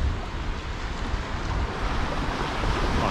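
Ocean waves washing into shallow water at a beach in the Pilbara, a broad continuous surf roar with low rumble and wind buffeting the microphone, no talking.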